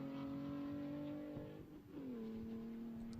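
Ars Tuning BMW M3 race car at a Buttonwillow time attack session, its engine droning steadily at high revs, briefly dipping as it lifts, then climbing again under power, heard at a moderate distance with faint tire noise.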